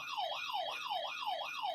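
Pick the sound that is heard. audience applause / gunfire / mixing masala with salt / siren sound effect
siren sound effect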